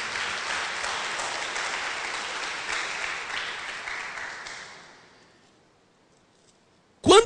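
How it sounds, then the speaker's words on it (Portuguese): A church congregation applauds in a broad, sustained burst of clapping that gradually fades to silence, followed by a brief sharp sound at the very end. "Pode aplaudir, aplauda Jesus"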